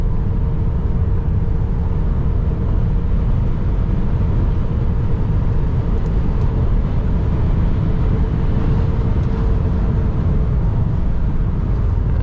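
A Tesla Model 3 Performance electric car accelerates hard on the Nürburgring track, with a loud, steady roar of road and wind noise and a faint motor whine running throughout, no voices.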